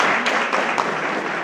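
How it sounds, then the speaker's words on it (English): A dense, even round of applause fills a hall at a University of Fort Hare science debate event, steady clapping from an audience with no voices standing out. "Another round of applause for all of them"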